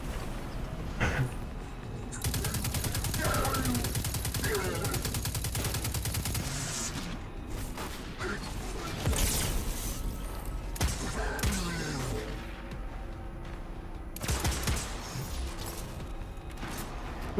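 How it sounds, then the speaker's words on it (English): Rapid automatic scout rifle fire in Destiny 2, heard as sustained bursts of close, loud gunshots with mechanical clatter, pausing and resuming across the stretch amid in-game ambience. "This is an automatic firing scout rifle."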